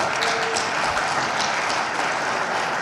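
A large sports medicine conference audience applauds steadily, a dense, continuous wash of clapping heard from within the room for the whole stretch.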